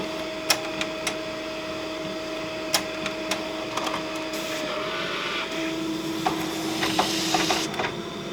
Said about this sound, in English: Feeds my material through, and the printer is now reporting ready to print.